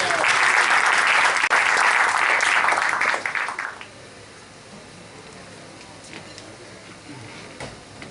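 An audience at an Urdu literary tribute event claps loudly and densely for about three and a half seconds. The applause then quickly fades to a quiet room with a few scattered late claps.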